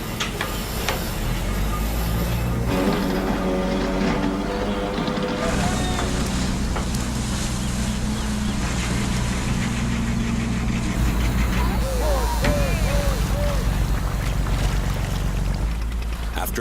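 Herring fishing boats racing across the water, their engines giving a loud, steady drone with water rush throughout and a low narrating voice over it.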